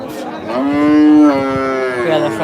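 A cow at a cattle market gives one loud, drawn-out moo close by, rising and holding for about a second before trailing off amid background crowd noise.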